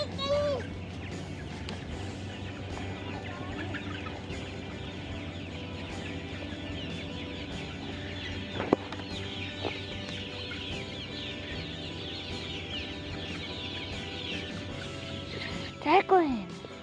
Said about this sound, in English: You see chickens!